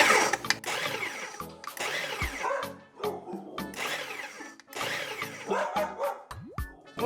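Dog barks repeatedly at close range in a kitchen while pastry dough for homemade pop tarts is mixed, the barks mingling with the steady whir of an electric mixer.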